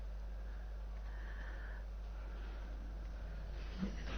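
Dire wolf creature in the Ark video game (version 1.64 update) sniffing, a soft, continuous breathy sniffing sound over a steady low hum, fairly quiet, with one brief louder puff near the end and no talking.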